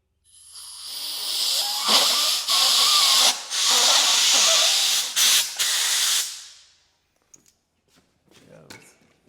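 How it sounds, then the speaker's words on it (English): Compressed air blasting into the loader boom hydraulics of a Case 1840 skid steer under restoration, a loud steady hiss in several long bursts with short gaps, then quiet handling noises and speech. "And put some air to it."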